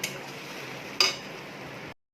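Onion, ginger, garlic and chili paste sautéing in a wok, with a spatula stirring through a steady soft sizzle and one sharp metallic clink partway through.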